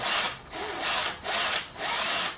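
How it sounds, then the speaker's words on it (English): A power drill bores slowly through hard oak for the legs of a bonsai display stand, a loud close whine rising and easing in four even surges as the bit cuts. "The oak is very hard wood, and so the drill goes through it fairly slowly"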